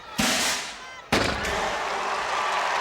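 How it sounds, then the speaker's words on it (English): An air cannon firing at a target during an American Gladiators game event, with two sharp loud blasts about a second apart, each followed by a hissing rush of air and arena noise. "now taking aim with the cannon"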